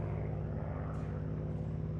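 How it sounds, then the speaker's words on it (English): A propeller-driven airplane drones steadily overhead, its engine hum constant and fairly close, heard alone without any talking. "Prop-driven plane"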